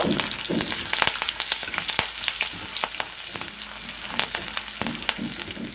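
Steady oil sizzling and crackling as chopped green chillies and garlic fry in a pan, with frequent scraping taps of a spatula stirring, close and fairly loud.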